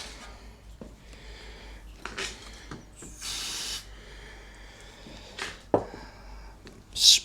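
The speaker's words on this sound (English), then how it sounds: "spray some of that stuff in there" Cleaner spray fired into the bore of a Nibbi G619 walk-behind tractor engine, a few short hissing bursts at close range separated by quiet handling clicks and rustles.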